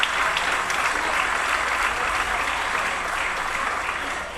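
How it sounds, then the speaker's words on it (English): An audience at a school fourth and fifth grade band and string concert gives a steady round of applause for the fourth graders, even dense clapping at moderate volume filling the room throughout. "So, round of applause again for our fourth graders."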